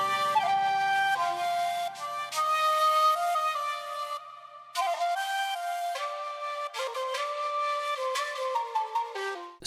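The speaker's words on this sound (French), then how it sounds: "c'est un shakuhachi de Best Service Ethnoworld 7" Sampled shakuhachi from the Best Service Ethnoworld 7 library playing a breathy, sustained flute melody with long held notes and a brief pause midway, clear and upfront with no talking.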